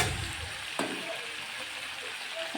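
New potatoes and chicken sautéed in a pan, a faint, steady sizzle with a few soft stirring clicks, heard close with no talking.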